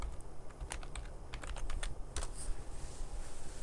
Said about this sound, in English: let me see what we're connected to. Let me go into, let's see, the command prompt. And I'll type IP config.